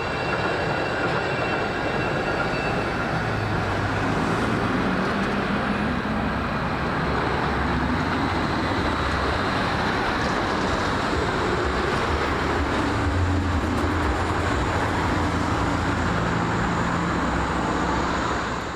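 The Wuppertal Schwebebahn suspension train passes under the Sonnborn rail bridge with a continuous broad rumbling roar that holds steady and loud throughout, with faint higher metallic tones running over it.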